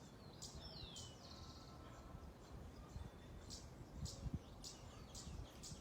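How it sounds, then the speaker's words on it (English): Faint bird chirps and short calls come from outdoors at a distance over a quiet background. "Maybe if you close your eyes, you can hear the birds"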